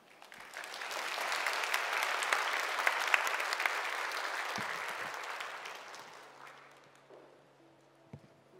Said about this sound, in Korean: 우리 나올 때 우리 격려의 박수 해주시길 바랍니다